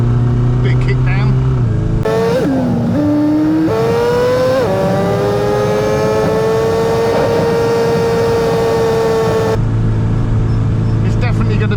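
A classic Mini from a budget restoration climbing Ditchling Beacon, its engine revving hard on kick down, the whine rising and holding high for several seconds before dropping back, loud and close from inside the car.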